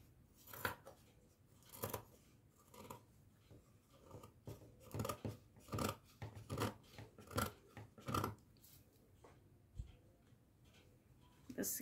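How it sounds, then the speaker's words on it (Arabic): Scissors snip through fabric while a satin bonnet is being made, a series of crisp separate cuts in an uneven rhythm, close and fairly quiet with pauses between snips. "هنقص بالمقص."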